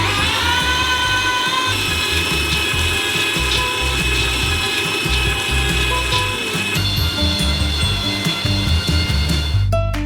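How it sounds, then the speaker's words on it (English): A meat grinder with a small nozzle grinds about 20 kilograms of nuts, giving a loud, continuous mechanical grinding and whirring with a steady ratcheting texture throughout. "We transfer them into a meat grinder. And grind them through a small nozzle."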